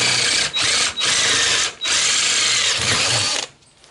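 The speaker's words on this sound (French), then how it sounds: "je m'en vais le percer bien au centre" Power drill boring a 6.5 mm hole through the centre of a metal car-body part clamped in a vise, a loud steady whine with a few short dips before spinning down.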